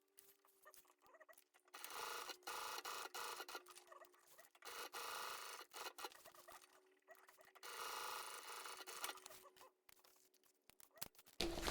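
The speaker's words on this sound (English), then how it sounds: "we are just going to baste this pocket on at a 1/8 inch seam allowance" A sewing machine bastes a pocket onto a crossbody bag with a 1/8 inch seam allowance, running in several sustained bursts of rapid, whirring stitching with brief pauses between them. The sound is close and fairly quiet, with no talking.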